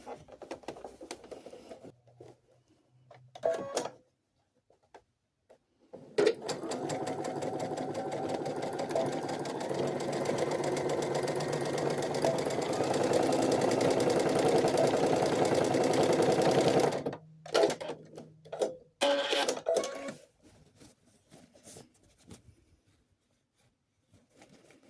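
A sewing machine stitches elastic into a doll's fabric skirt, running in one long steady burst of about eleven seconds, with short starts and stops before and after.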